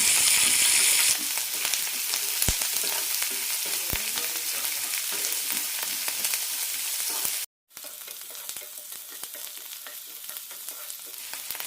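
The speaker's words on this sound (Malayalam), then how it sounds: "കുറച്ച് കറിവേപ്പിലയും ഇടാം സവാളയെല്ലാം ചെറുതായി ചോന്ന് കിട്ടുന്നവരെ വഴറ്റിയെടുക്കാം" Onions sautéing with curry leaves, green chilli, ginger and garlic for a ridge gourd curry, a steady loud sizzle and frying crackle with stirring, broken by a brief gap near the end.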